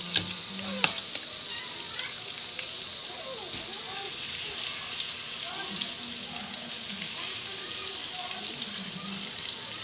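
Milkfish fries in hot oil in a pan, giving a faint, continuous crackling sizzle like light rain, with scattered soft pops and clinks from nearby kitchen activity throughout.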